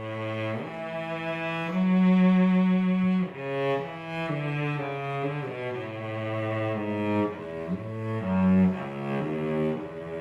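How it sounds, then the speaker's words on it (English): A recorded Beethoven cello sonata plays a warm, lyrical melody of sustained bowed notes with smooth phrasing, moderately loud and with no voices over it. "This is a sonata he wrote for cello."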